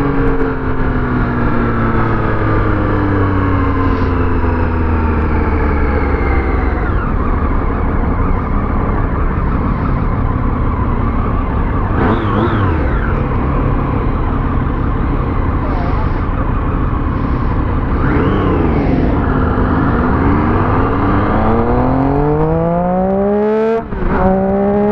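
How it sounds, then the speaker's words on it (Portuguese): Motorcycle engine revving repeatedly, compared with and without its exhaust, loud and close throughout with rising and falling pitch sweeps as the throttle opens and drops. "Diferença aí, a motoca com escape sem escape,"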